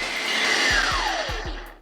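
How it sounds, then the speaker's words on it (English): Food processor whirring through hummus with garlic chunks, a steady loud motor drone with a few low thumps as the blade catches, running alone for under two seconds. "I'm gonna food process it a little bit more"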